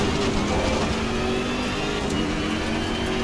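A BMW M6 GT3 race car in Assetto Corsa Competizione gives a loud, close, steady engine drone as it brakes into a corner, heard alone for a few seconds.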